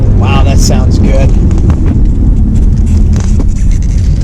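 A Lamborghini-engined auction car accelerates with a loud, rough engine roar close to the microphone, wind buffeting over it, with a person speaking briefly at the start.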